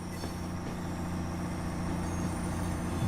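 Diesel engine of an Avanti Class 805 train in the Train Sim World video game hums at a steady low idle, fairly faint and continuous throughout.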